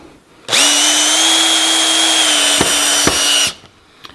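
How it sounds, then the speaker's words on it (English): A cordless drill spins up and bores through timber for about three seconds, a loud steady whine with a couple of brief catches near the end, then stops abruptly. "It drills right through the timber."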